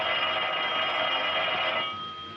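A telephone bell rings continuously in a 1930s mystery film scene, a steady bright electric ring holding loud for about two seconds before fading slightly, with no talk over it.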